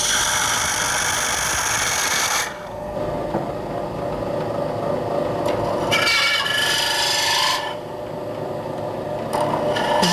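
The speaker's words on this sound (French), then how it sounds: "on fait une perce en escalier avec des forêts cylindriques de différentes grosseurs" Steady raspy boring sound of cylindrical drill bits of various sizes cutting a stepped bore into a wooden baroque transverse flute body, continuous and close, with brief changes in pitch and texture as the cut progresses.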